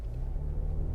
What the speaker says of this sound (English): So let me come to a standstill and accelerate